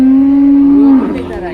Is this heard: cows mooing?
yes